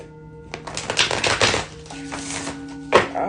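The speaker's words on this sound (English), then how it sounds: "let me shuffle these" A deck of cards is riffled close up in a quick fluttering burst, followed by a few softer taps and a sharp snap.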